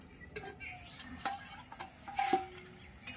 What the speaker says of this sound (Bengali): এখন আমি গামলাটা উল্টিয়ে দেখব যে কেমন হয়েছে